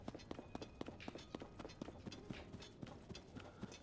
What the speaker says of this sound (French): Qu'on m'amène mon cheval.